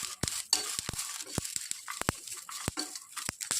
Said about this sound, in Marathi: आता त्यामध्ये मी मिरची, लसूण, तीळ आणि अख्खे धने टाकूया आणि सोबत कोथिंबीर या सर्वांना आपण भाजून घेऊया